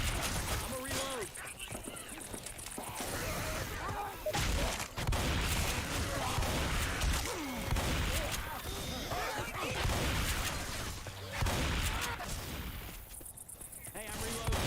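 Rapid video game gunfire in a co-op shooter, bursts of shots cracking repeatedly under excited voices talking over them.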